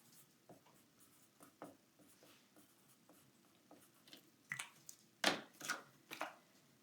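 A paper trimmer slices cardstock for a scrapbook page layout, with soft scattered taps and scrapes building to a few crisp, close cutting strokes near the end, with no talk.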